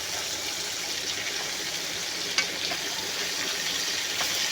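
Green chillies fry in mustard oil for a homemade pickle, giving a steady, close hiss and sizzle that continues throughout with no voices present.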